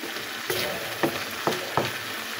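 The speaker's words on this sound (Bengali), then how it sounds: "এবার একটু মিক্স করে রান্না শেষ করব।" A bean, potato and shrimp stir-fry sizzles steadily in a pan while a spatula stirs it, four distinct scraping strokes standing out over the continuous frying hiss.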